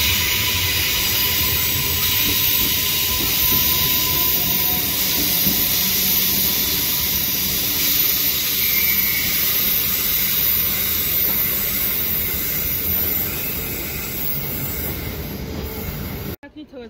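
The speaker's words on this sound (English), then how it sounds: "there goes the Maryborough train." The Maryborough train pulls away from a station with a steady rumble and hiss, wheels grinding along the rails and gradually easing before a sudden cut at the end.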